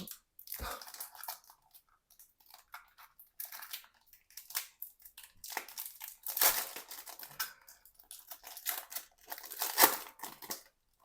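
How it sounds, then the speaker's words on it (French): Panini Select NBA trading card packs are torn open by hand, with bursts of crinkling, crunching foil wrapper noise in irregular clusters, close and fairly quiet, with no talking. "On enchaîne, parce qu'il y a un peu de pack à ouvrir. Ah, c'est toujours une galère à ouvrir ça."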